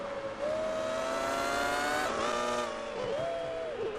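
A Toyota Formula One car engine from a video game set at the 2002 Austrian Grand Prix howls at high revs, a steady piercing whine that rises, drops with shifts and climbs again, with no voices.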